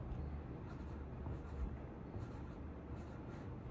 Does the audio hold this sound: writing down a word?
yes